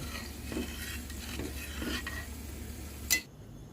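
A spoon stirs a pot of arhar dal just after ghee is added, giving several soft, rhythmic scraping strokes over a faint simmer, ending with one sharper clink of metal.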